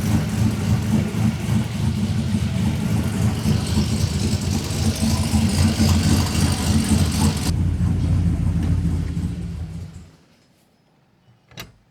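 A new 6.2 engine idles steadily with a rough, chuffing exhaust leak for about ten seconds, then cuts off abruptly, leaving near silence and one faint knock.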